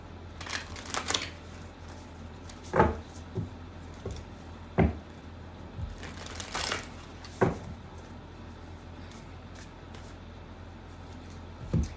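A deck of cards being cut and shuffled, giving soft riffling bursts and a few sharp taps on a table at close range, with no talking.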